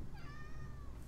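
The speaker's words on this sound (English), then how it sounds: "Despy, can I get a meow" A cat meows once, a clear, drawn-out call heard close by over a low background hum, with no speech.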